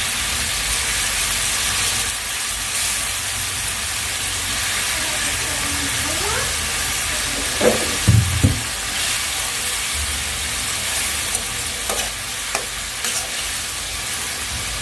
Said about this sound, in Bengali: এই মশলার উপরে এবার সব মাছগুলো আমি দিয়ে দেবো